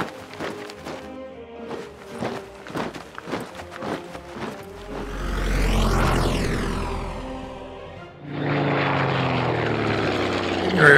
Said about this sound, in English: Aircraft back to land.